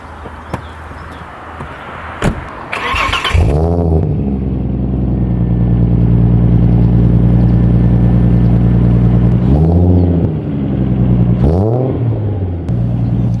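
An Audi A6 with a straight-pipe exhaust starts with a clatter, then settles into a loud, deep, throaty idle, with a few sharp revs that rise and fall near the end.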